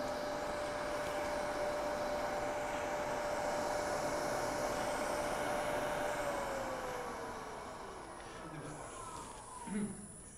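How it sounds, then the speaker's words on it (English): An air compressor blows dust out of sanding pads in a woodturning shop, a loud continuous hiss and rush of air that tapers off near the end with a few small knocks. "When you get the dust in the pads, just take your compressor and blow it out"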